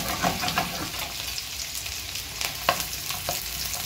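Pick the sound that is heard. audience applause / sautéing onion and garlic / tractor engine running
sautéing onion and garlic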